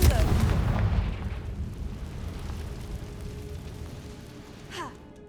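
A Confringo fire spell explodes in Hogwarts Legacy with a loud, booming burst at the start that rolls off into a long, fading rumble, ending with a brief whooshing flourish near the close.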